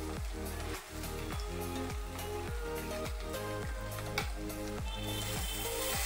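Ginger paste sizzling in a hot pan with onion and garlic, a continuous close hiss of frying heard under a steady repeating rhythmic backdrop.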